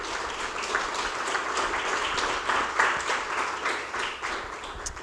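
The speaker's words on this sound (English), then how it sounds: "So I'd like you all to join me in a round of applause to Teacher Lyndon." Audience applause at a literacy award ceremony, a sustained round of clapping from a room of people, dense and steady with slight swells, heard alone without voices.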